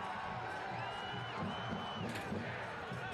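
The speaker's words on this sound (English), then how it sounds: "Not only is the crowd bringing the noise" Soccer stadium crowd roaring at kickoff of Portland Hearts of Pine against New York Cosmos, a continuous distant wash of cheering with scattered whoops beneath an announcer's voice.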